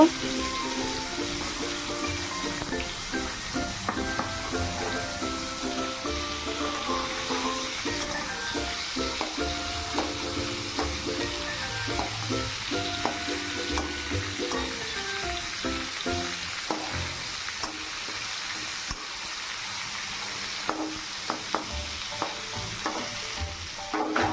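Ash gourd frying in a wok, with a steady, close sizzle and crackle running throughout, punctuated by stirring scrapes and clinks; faint background voices are present at times.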